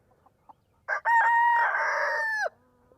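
A rooster crows once, loud and close, a long drawn-out call after a short clucking lead-in, with quiet surroundings.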